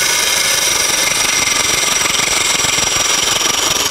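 A half-inch Sorby spindle gouge cutting a small wooden spindle on a lathe, giving a loud, steady whirring and scraping drone with constant motor hum throughout.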